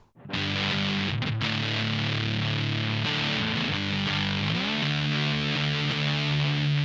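Thick, fuzzy distorted bass from a Tym Guitars Black Mud fuzz pedal plays sustained low notes, shifting pitch a few times, loud and saturated throughout with no voices.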